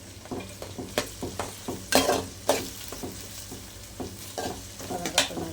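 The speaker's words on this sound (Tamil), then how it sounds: "பொன்னிறமாக கொஞ்சம் வெங்காயம் மட்டும் நல்லா வதக்கிக்கணும்." Onions sautéing in a pan for vegetable biryani, a soft continuous sizzle broken by repeated scraping and clacking strokes of a spoon against the pan, close by and irregular.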